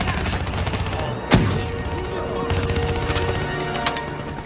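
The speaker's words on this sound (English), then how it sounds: "Give me some cover fire." Sustained cover gunfire in the Call of Duty Black Ops 3 campaign, a dense fusillade of rapid shots with one sharp loud crack early on, continuing steadily throughout under battle noise.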